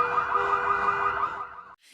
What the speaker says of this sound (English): he sets off multiple car alarms to create confusion